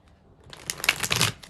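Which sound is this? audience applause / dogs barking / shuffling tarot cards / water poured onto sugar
shuffling tarot cards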